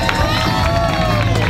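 Crowd at the Fiesta de Palmas 2018 celebration applauding and cheering for a mother, a dense steady wash of clapping and shouts with murmuring voices throughout.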